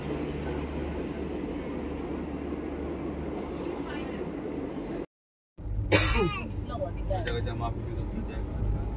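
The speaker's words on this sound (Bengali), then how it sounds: "তো আমাদের ট্রেন ঢুকে গেছে গরিবরথ" A Garib Rath express, an all-AC train, pulls into a station with a loud, steady rolling rumble. After a brief cut comes a burst of high metallic wheel squeal and clanking, with a nearby cough or throat clearing.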